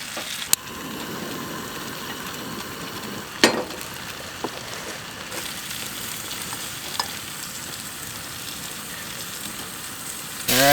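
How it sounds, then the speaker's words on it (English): Cubed potatoes and kielbasa frying in butter in a pan at a truck campsite, giving a steady, close sizzle throughout with a few sharp clicks and scrapes of stirring. "So now I got some butter. Got our pan full of potatoes."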